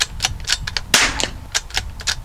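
Rapid, sped-up .22LR rifle shots at a target-shooting session, a dense string of sharp cracks, roughly ten in quick irregular succession, one louder than the rest, close and without talk.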